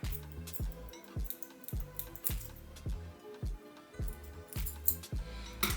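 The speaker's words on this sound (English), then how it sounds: "I'm gonna go ahead and cut the cap off" Scissors snip close up through a glued wig cap during a blonde-highlighted frontal lace wig install, a steady series of short crisp cuts with faint clinks, alone without talk.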